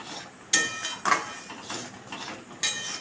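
Green papaya payesh with cardamom, cashews and raisins stirred in a pot, giving a few sharp metallic clinks of a spoon against the pot rim amid soft scraping, close and fairly quiet.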